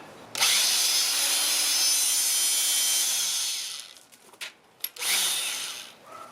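Anbull 900 watt rebar cutter working on quarter-inch stainless steel cable: a loud motor whine with grinding hiss holds for about three seconds, stops with a few clunks, then starts again briefly.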